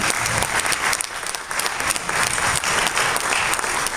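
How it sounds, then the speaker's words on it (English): A graduation crowd claps steadily and loudly throughout, a dense wash of applause with no talking over it. "Give that young man a round of applause."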